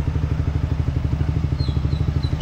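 Large motorcycle engine running with a rapid, even pulsing thump, close and loud, holding steady with no voices over it.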